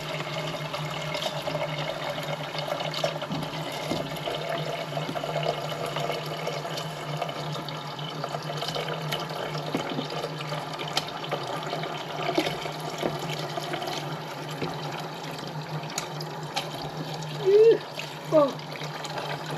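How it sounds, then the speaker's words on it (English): Cold water runs steadily from a kitchen tap into a pot, a continuous splashing stream at close range with a couple of brief louder knocks near the end. "Well, we turn on the cold water."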